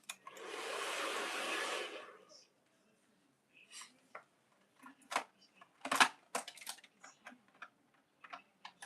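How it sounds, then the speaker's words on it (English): A hair dryer blows hair for a couple of seconds with a steady close whoosh, then cuts off, followed by scattered clicks, taps and small handling noises. "So we're going to go ahead and blow dry all the hair."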